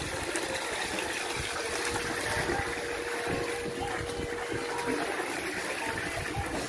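An Intex LED pool waterfall runs in a garden at night, giving a steady, faint rush of falling water, continuous and even, with no other sounds standing out.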